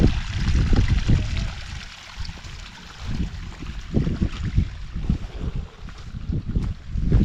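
Rainwater runoff stream flowing into a homestead pond after heavy rain, a loud, close, continuous rush and gurgle with surging low-end pulses and wind buffeting the microphone.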